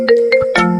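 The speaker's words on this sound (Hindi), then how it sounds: "अभी किसका फोन आ गया?" A phone ringtone plays in a home kitchen, a short bright melodic jingle of rising tones that holds into a sustained chord, close and clear with no voices over it.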